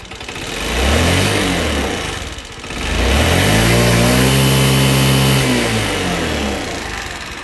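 A scooter engine running after its carburettor was cleaned, loud and close, revving up and settling, dipping briefly then rising again to a steady rev before easing off, with no voices.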